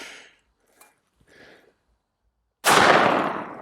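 A single powerful shot from a .460 Smith & Wesson firing Underwood 300 grain XTP JHP ammunition at body armor, heard as one loud, sudden blast that rings out and decays after a few quiet faint sounds.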